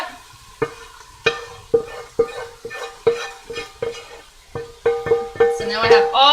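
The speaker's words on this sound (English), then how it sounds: "Okay, this mixture is going into my pot." Mushroom, onion and garlic mixture tipped and stirred into a cooking pot, giving a run of repeated clattering scrapes and soft sizzles close by, building louder toward the end.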